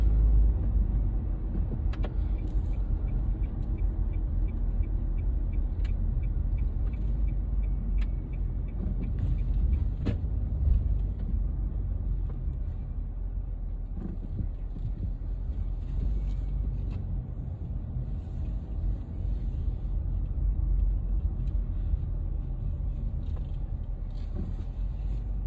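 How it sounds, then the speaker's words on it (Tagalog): Steady road traffic near a hospital, with many cars and other vehicles passing in a continuous low rumble that swells and fades slightly as they go by, with occasional faint mechanical clicks and no clear talking. "dami na nang sasakyan palang dumadaan"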